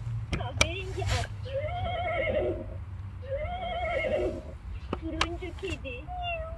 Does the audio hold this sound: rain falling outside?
no